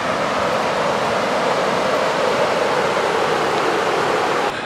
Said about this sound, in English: walking south, we can start to hear the beautiful Foinitsa River.